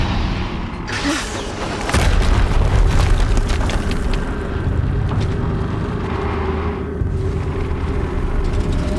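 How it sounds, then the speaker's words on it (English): Explosions in Horizon Zero Dawn gameplay, a loud deep boom breaking out near the two-second mark and settling into a sustained heavy rumble with scattered crackles that fade toward the end. "Another explosion."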